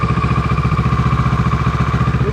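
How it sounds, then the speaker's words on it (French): A 2012 Kawasaki ER6N motorcycle engine runs close by with a steady, even idle, its rhythmic low thrum and light mechanical clatter holding alone without talk. "ensuite, on démarre la moto."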